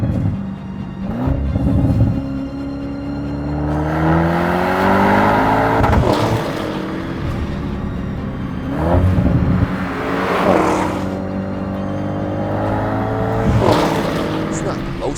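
An Audi RS7 engine revs hard and repeatedly, pitch sweeping up through the gears then dropping back, loud and close with brief throttle lifts between pulls.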